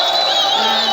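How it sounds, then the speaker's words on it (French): Crowd at a political rally in South Kivu, Congo, cheering and shouting in a dense, steady roar with whoops, loud and close, applause blended into the continuous din. "applaudissez pour le frère de Maniema"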